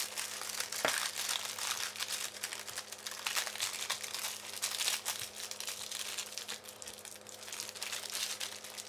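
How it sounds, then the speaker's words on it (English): A papillote wrapper for fish is folded into a half-moon shape, making continuous close crinkling and crackling that runs throughout with small rustling bursts and no speech. "Now we're gonna go ahead and do the folding process. So we gotta do a half moon shape"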